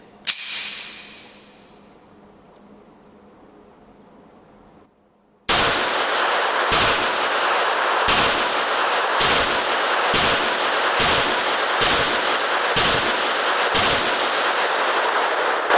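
A Rock Island Armory XT 22 Magnum pistol fires one sharp shot, then after a pause a steady run of about ten loud, evenly spaced shots, each ringing out briefly.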